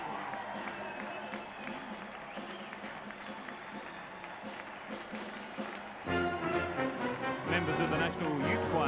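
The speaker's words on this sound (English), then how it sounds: "joining in the rousing reception that the crowd is giving the representatives from the various countries" Large stadium crowd roaring and cheering at the 1990 Commonwealth Games closing ceremony in Auckland, a steady dense wash of noise that swells louder and fuller near the end, with music or singing blending in.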